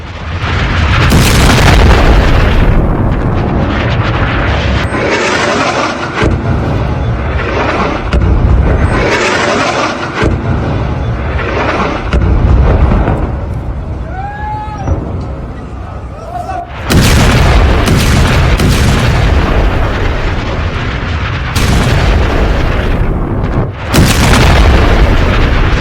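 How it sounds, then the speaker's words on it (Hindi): Several explosions from Israeli missile strikes in Lebanon, heavy booms and rumbling blasts one after another, loud and sustained under dense noise with possible voices mixed in. "लेबनान के अंदर घुसकर देखिए जरा, एक के बाद एक कई धमाके हुए।"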